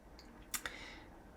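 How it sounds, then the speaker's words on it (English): Two quick, crisp scissor snips through vellum paper close together, then quiet room tone. "just snip off the vellum along the top"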